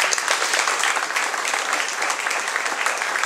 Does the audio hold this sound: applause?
yes